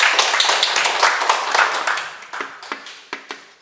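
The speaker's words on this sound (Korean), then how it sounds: "큰 박수 한번 부탁드립니다" An audience applauds at a Sunday lecture, a dense burst of many hands clapping that gradually thins out into a few scattered, separate claps toward the end.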